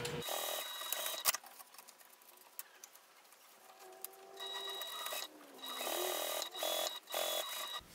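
A sewing machine stitching down the sides of a clutch wallet, with bursts of fast, close mechanical whirring and rattling separated by quieter pauses.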